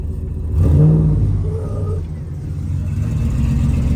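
A Chevy Silverado truck engine idling steadily after a fuel pump replacement, a loud, close, continuous low rumble with a slight rise in revs early on, no talking.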